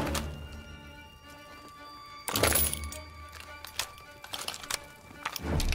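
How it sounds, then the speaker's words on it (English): Launcher blast breaching a weak wall in Call of Duty WW2, a sudden broadband crack and crunch around the two-second mark over a low game soundscape, followed by scattered debris thuds and a second heavy hit at the end. "Daniels, use your launcher to clear a path"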